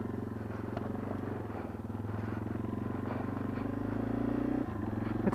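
A van driving with a sticking clutch gives a steady low engine drone with a rattle through it, loud and close, and a brief dip near the end, with no talking.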